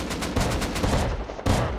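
Shotgun traps fire in a Rust-style survival video game as rapid overlapping blasts, a dense burst of gunfire running throughout with a fresh loud shot near the end.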